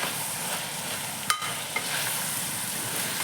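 Mutton keema frying in oil with fresh field beans being stirred in, giving a steady close sizzle with a couple of brief scraping clicks from the spoon.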